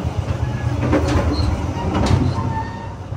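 A passenger train, the Gajahwong, rumbles steadily along the rails past Jatinegara, Indonesia, with a constant low roar and occasional faint metallic squeals, heard from inside the carriage.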